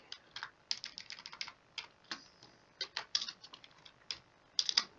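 Code is typed on a computer keyboard in quick irregular bursts of crisp key clicks, close and fairly quiet, with short pauses between runs and no speech.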